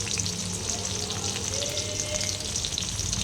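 Mustard and cumin seeds sizzle and crackle steadily in hot oil in a pan while upma is being made, a dense continuous frying hiss with small pops, close and fairly loud, with no talking.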